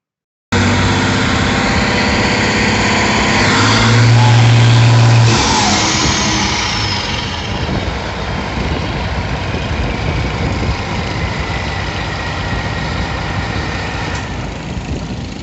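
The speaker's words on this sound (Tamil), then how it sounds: "இன்ஜினை ஸ்டார்ட் பண்ணி செக் பண்ணுறாங்க அந்த இன்ஜின் சவுண்ட் எப்படி இருக்குன்னு பாருங்க" A large fishing boat engine rumbles steadily, revving up briefly near the start before settling into a loud, continuous idle with no talking.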